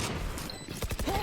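Phantom rifle fire during a pro Valorant match between Cloud9 and 100 Thieves, a short burst of sharp shots near the end of the clip under busy game noise and caster commentary.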